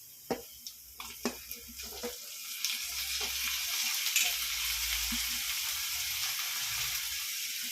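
Onion and dal sauté in a pan: a few sharp utensil taps and scrapes at first, then a rising steady frying hiss that holds to the end. Close and moderately loud, with no speech.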